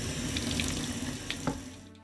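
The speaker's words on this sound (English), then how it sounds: "Just a quick rinse in some hot water with some pink stuff's made it look nice." Hot water runs steadily from a tap into a sink while an 80s Teenage Mutant Ninja Turtles roller skate boot is rinsed, a continuous close rushing with small splashy changes.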